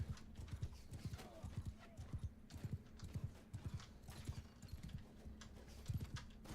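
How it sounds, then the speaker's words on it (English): Horse archer cavalry charging on horses in a medieval battle video game, a fast, continuous clatter of many hooves with an occasional whinny, moderately loud throughout. "their cavalry is charging directly at mine. Oh, that's just horse archers."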